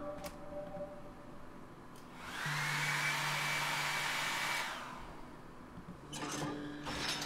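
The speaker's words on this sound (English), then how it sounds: "Here you go, hair dryer." A hair dryer switches on in the video game Danse Macabre: Thin Ice, blowing a steady whooshing roar with a whine for about two seconds before cutting off, heard alone against quiet ambience.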